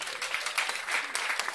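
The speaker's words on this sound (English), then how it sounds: "Give him a hand clap." Steady, dense applause from an audience at a clergy council fellowship dinner, many hands clapping together throughout.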